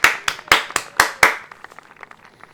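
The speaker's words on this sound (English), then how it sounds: "give yourselves a round of applause" A team gathered at an AlphaTauri dinner in the F1 2021 game claps, six loud close sharp claps in a steady rhythm, then fading into lighter scattered claps.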